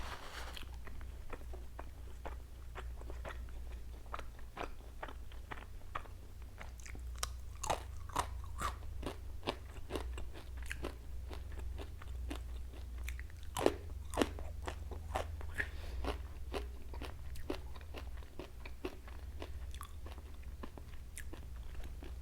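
Close, crisp crunching and chewing of homemade buttermilk waffles and crispy bacon, with bites repeating steadily over a low hum and no talking.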